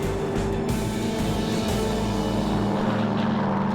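Twin piston propeller engines of a DC-3 airliner at full power on the takeoff roll, a loud, steady, throbbing drone heard from inside the plane.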